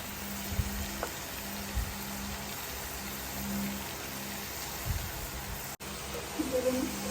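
Paneer fries in a pan over a low flame, giving a soft, steady sizzle that runs the whole time, with faint stirring scrapes and a few light knocks.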